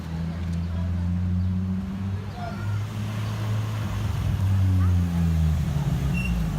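A Nissan G35/350Z engine with a Motordyne exhaust test pipe rumbles steadily at close range with a deep, throaty exhaust tone that rises and revs toward the end, with faint voices underneath.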